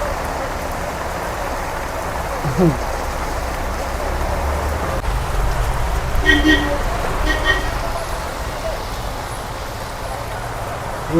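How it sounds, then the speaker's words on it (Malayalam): Heavy, relentless rain pours down in a steady, dense hiss throughout, with faint traffic passing in the background. "ഒരു രക്ഷയില്ലാത്ത മഴ."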